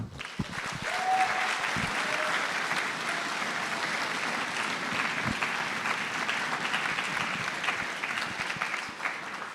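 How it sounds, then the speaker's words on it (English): An audience at a high school chorus and orchestra concert applauds the choirs with sustained, dense clapping that fills the hall for the whole stretch. "how about one more big round of applause for all these wonderful choirs?"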